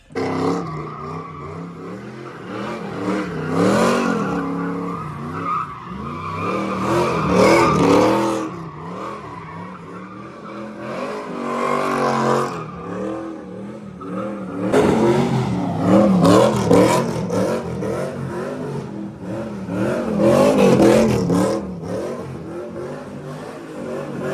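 A drift car slides and revs hard, its engine climbing and falling in repeated loud surges with tire noise, steady and close throughout with no talking.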